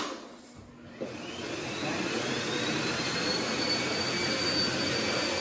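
A household vacuum cleaner runs steadily at close range, a loud continuous whine and roar that starts after a brief quieter moment and holds without a break.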